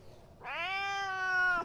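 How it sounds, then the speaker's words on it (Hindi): A cat lets out one loud, drawn-out meow close by, rising and then holding a strained, wailing tone before cutting off, after a brief quiet start. "ये देखो कितनी खतरनाक बिल्ली है, चीख चीख के बोली है कि मुझे मुर्गी खिला दो।"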